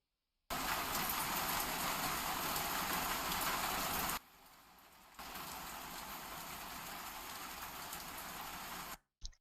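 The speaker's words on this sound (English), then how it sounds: "rain on a window, heavy rain on a metal" Heavy rain on a window and metal, a dense, loud, steady hiss that briefly drops to a quieter patch before resuming at full intensity and cutting off.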